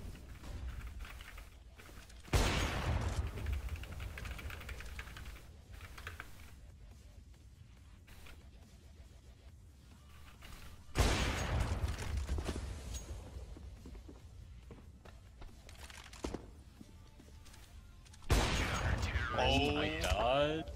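A player fires a gun in a competitive shooter video game, producing three separate loud bursts of gunfire spaced several seconds apart over a quiet game background with faint footsteps and keyboard clicks.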